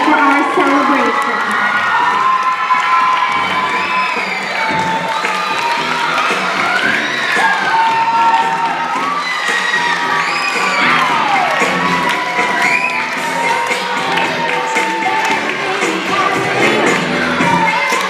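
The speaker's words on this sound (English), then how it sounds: "give them a huge round of applause for all the hard work they did for our celebration" Children in a crowd at a school celebration shout, cheer and whoop loudly for eighteen seconds, high excited voices piling over one another, with only light clapping mixed into the din.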